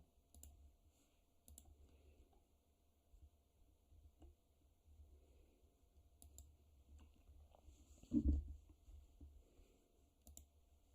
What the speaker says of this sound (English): let me take my keyboard